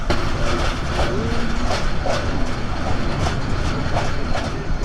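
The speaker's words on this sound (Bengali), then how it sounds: "যমুনা সেতুর উপরে যখন ট্রেন যায় তখন বিশ স্পিডে চলে ঘন্টায়" An express train on the Dhaka to Cox's Bazar line rolls steadily along the rails, a continuous loud rumble with faint rhythmic clicks of wheels passing over track joints, close by.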